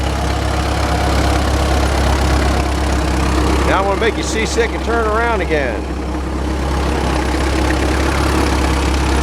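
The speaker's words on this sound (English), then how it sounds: "Here goes a nice Case tractor up the road with a blue shirt." A Case tractor's engine idles with a steady low rumble as it drives in at a large gas and steam show in Maryland, while someone talks nearby over the continuous hum.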